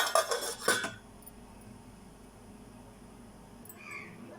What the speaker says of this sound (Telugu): స్పూన్ 2 టేబుల్ స్పూన్లు శనగపప్పు వేస్తున్నాను.